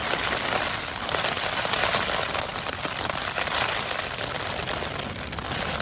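Heavy rain lashes a lightweight Zpacks Free Duo tent on a flooded campsite during a storm with strong gusts. The dense, constant drumming and crackle on the fabric sounds close and loud.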